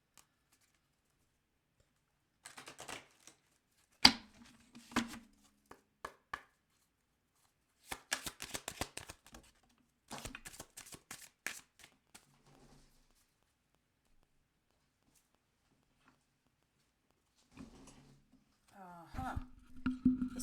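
A deck of oracle cards being shuffled in several short bursts of quick papery riffles and taps, separated by quiet pauses, with a faint voice near the end.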